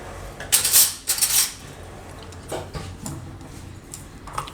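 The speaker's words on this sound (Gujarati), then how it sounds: "હવે આ બધું આપણે મિક્સ કરી લેવું." A spoon mixes soybean dhokla batter in a bowl, sending sharp, close metallic clinks and scrapes in a few quick bursts, then quieter stirring sounds, with no talking.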